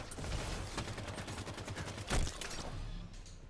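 Rapid automatic gunfire rattles in Halo 5: Guardians Warzone gameplay, a fast burst of shots with a heavier blast partway through, fairly loud and continuous before tailing off.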